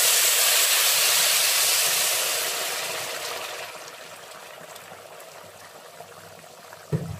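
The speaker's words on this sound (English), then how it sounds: "You should boil water." Steady hissing bubble of water at a boil, loud at first and gradually easing off, with a brief knock near the end.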